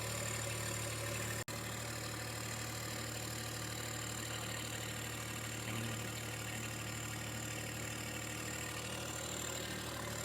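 A tractor engine runs steadily as it drives off a dump trailer at an angle, a constant mid-low drone with one brief sharp click near the start and no talking.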